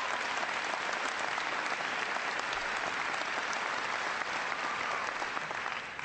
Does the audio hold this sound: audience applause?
yes